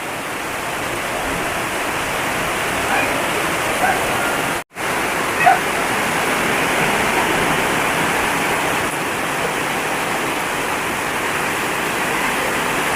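Water pours onto a room's flooring during a floor pour, a loud, continuous rushing gush that breaks off for a moment near the middle and then resumes.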